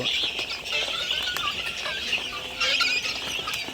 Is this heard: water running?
no